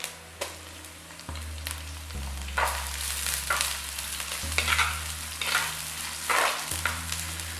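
Chopped large onions fry and hiss in a pan while a spoon stirs them, with repeated scraping bursts over a steady close sizzle and no voices.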